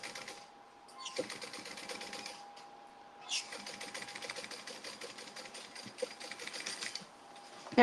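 Sewing machine running a seam on a tote bag, two bursts of fast rhythmic stitching separated by a short pause, the second run long and steady with a few knocks, close-up with no talk.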